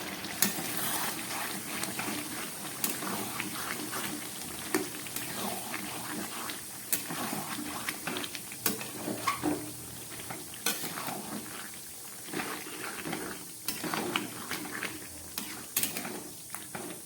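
Chicken curry frying and being stirred in a pot over raised heat, a steady sizzle under repeated scraping and clinking of a utensil against the pot, with no talking.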